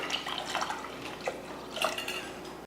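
Water splashes and trickles into a pot of turmeric and fenugreek for sambar, a rushing, gurgling sound, close by and steady for a couple of seconds.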